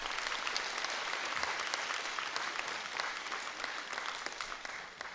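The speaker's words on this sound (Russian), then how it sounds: "Аплодисменты." Audience applause at a folk concert after a Mordovian folk song, dense steady clapping throughout that eases slightly toward the end.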